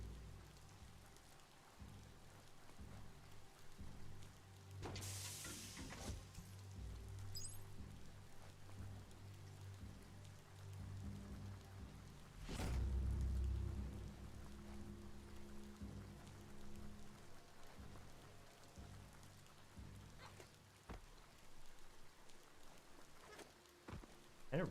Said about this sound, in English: And it rains a lot here.